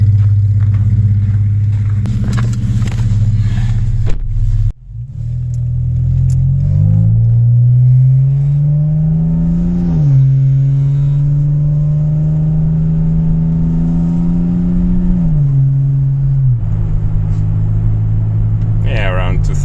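A BMW 525 E61 wagon with its muffler deleted drives along, the loud, raspy exhaust droning steadily and rising in pitch through repeated accelerations and gear changes, with a brief lift-off early on.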